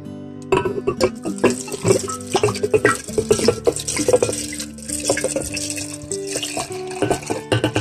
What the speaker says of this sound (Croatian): I sad ćemo da napunimo teglu sa vodom.